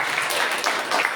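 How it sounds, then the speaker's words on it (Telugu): A church congregation at Rhema Church in Mirjalguda claps together, producing a dense, steady wash of many hands applauding at close range for a brief moment. "చప్పట్లు కొడతాం"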